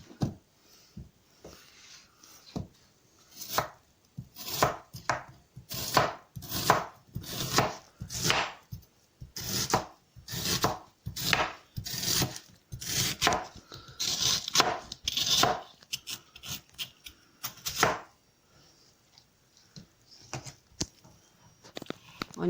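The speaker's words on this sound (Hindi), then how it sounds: "ऑनियन को हम लोग चॉप करेंगे।" A knife chops onion on a cutting board in quick, rhythmic strokes, close and crisp, with bursts of rapid cuts, brief pauses, and a few looser taps near the end while prepping chickpea rice.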